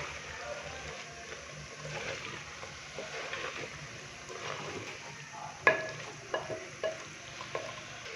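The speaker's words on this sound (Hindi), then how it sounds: "गोभी डालने के बाद अच्छे से हम इसको मिक्स करेंगे।" Cauliflower florets are stirred and mixed into mutton korma in a pot, giving soft scraping and a low sizzle with a few sharper knocks of the spoon near the end; no one talks.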